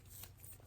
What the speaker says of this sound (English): So we'll give this a little bit of a shuffle.